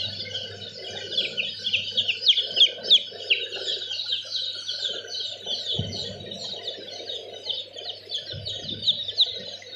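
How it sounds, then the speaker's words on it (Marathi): Newly hatched chicks on a poultry farm peep continuously in a busy, high-pitched chorus of many overlapping chirps. A low hum runs underneath, and a couple of soft thumps come near the middle. "बघा ही चिक्स आत्ताच निघालेली आहे"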